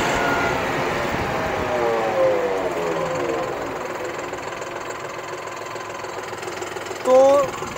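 A John Deere 5405 CRDI tractor engine runs steadily at a low idle after a gear shift, a continuous knocking diesel rumble heard close with someone talking over it and a brief louder burst near the end.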